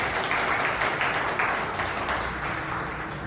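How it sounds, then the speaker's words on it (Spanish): A church congregation breaks into sustained applause during a service, a dense, even wash of clapping heard from a distance that holds steady throughout. "Dale un aplauso al Señor."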